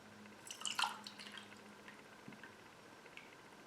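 Water splashes and drips briefly as an object is washed in a small vessel of ritual water, a short cluster of close, faint splashes followed by quiet trickling.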